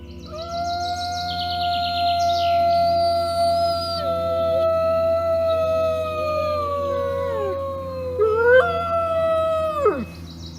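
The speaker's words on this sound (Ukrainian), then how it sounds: "Ці тварини спілкуються за допомогою виття." Several wolves howl together in long, sustained, overlapping cries that slowly fall in pitch, loud and unbroken, before the voices drop away at the end.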